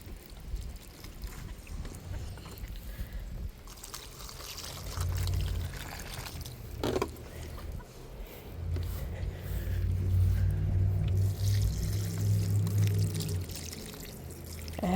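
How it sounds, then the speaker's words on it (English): Water pours from gallon jugs onto garden plants outdoors, a steady soft gurgling and splattering that runs throughout with low rumble and breezy background noise. "I had some water in these gallon jugs. I thought I'd just go ahead and use it up first."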